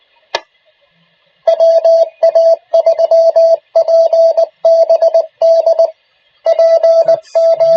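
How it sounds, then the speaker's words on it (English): Morse code comes over an amateur radio net as a loud, clear single-tone beeping in rhythmic bursts of dots and dashes, preceded by a brief click, with short gaps between groups. "That's Morse code."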